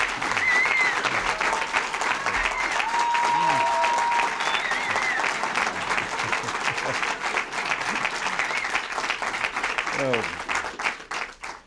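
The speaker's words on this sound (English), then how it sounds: "We're still clapping for you." An audience of conservative political leaders at a White House complex briefing applauds President Reagan. The clapping is dense and sustained, with a few voices over it, and it fades near the end.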